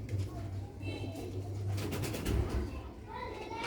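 Sialkoti black-faced pigeons cooing at a pigeon colony, low steady coos running throughout under background noise.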